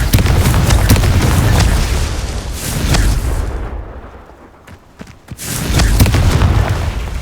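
Fiery blast spells from the Confringo curse in Hogwarts Legacy, a PC game, boom out as loud explosive bursts. They roar through the first few seconds, fade into a quiet gap, then burst loudly again near the end.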